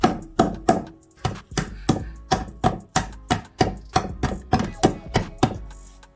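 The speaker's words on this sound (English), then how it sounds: "So I just crush it with a bottle" Allspice (pimento) being crushed by hand with a bottle: about fifteen steady, heavy thuds in a quick even rhythm, close and loud, with no talking.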